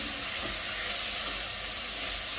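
Onions and tomatoes sauté in a pan for chole masala, giving a steady, close sizzle with soft occasional stirring clicks throughout.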